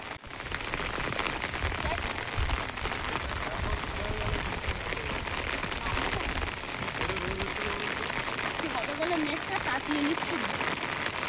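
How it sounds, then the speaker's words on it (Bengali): Steady rain falls on a village home under heavy cloud, a constant hiss filling the whole stretch, with faint voices or other sounds now and then beneath it. "একেবারে মেঘ ভর্তি হয়ে গেছে, বৃষ্টিও পড়ছে"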